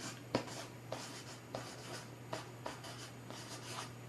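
Pen scratching out notes on paper during a probability and odds lesson, a close, quiet run of short strokes and taps in an irregular rhythm over a low steady hum.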